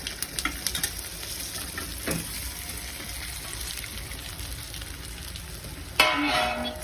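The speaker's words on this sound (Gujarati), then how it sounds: "રાઈ કકડી ગઈ છે" Mustard seeds crackle and sizzle in hot oil in a pan, a steady close frying hiss with small pops, a spoon clink near two seconds and a louder burst of sizzling at the end.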